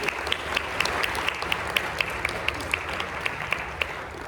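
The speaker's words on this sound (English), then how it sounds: "So let's clap for Vicki." An audience applauds an award winner at a writing conference's closing ceremony, a steady mass of clapping with a few sharp, distinct nearby claps rising over the continuous wash throughout.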